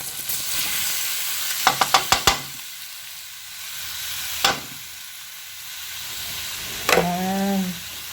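Hotdogs fry in hot oil with a steady background sizzle, punctuated by a quick series of sharp clicks or taps early on, a single knock midway, and a short tonal squeak near the end.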